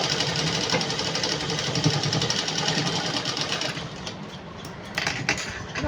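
A sewing machine runs steadily while stitching a dress, its fast continuous mechanical chatter close and loud throughout, easing slightly near the end with a few brief bursts.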